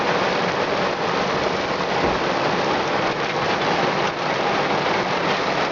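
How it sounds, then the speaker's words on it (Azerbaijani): A heavy downpour at a lakeshore on a fishing trip makes a dense, continuous roar of rain that stays loud and unbroken throughout. "Gölün qırağında leysan başlayır."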